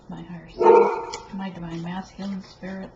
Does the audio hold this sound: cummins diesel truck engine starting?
no